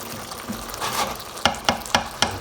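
A chickpea and potato curry cooks on high heat, giving a steady bubbling sizzle, then four evenly spaced sharp taps ring out, like a spoon knocking the pan.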